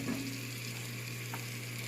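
Oil heats in a cast iron pot on medium heat with sautéed onions, giving a steady, continuous sizzle and low hiss close by, with no talking.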